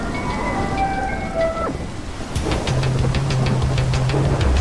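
Heavy rain and wind sweep through a Minecraft world, a steady wash of rainfall with a sharp thunder-like crack midway and a low sustained rumble after, loud and alone with no talking.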